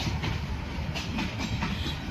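A long passenger train with many coaches pulls away from the Mymensingh junction platform. A loud, steady rumble with rhythmic clattering of wheels carries on without a break.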